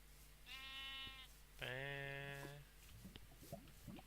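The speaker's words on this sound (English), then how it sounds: "Sheep." Two drawn-out sheep bleats close by in a video game, the second louder and lower, followed by a few soft clicks and taps.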